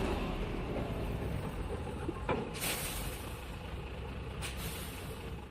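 A truck on a dark highway pulls over and stops, with a steady engine rumble throughout and two sharp air-brake hisses, the second fainter.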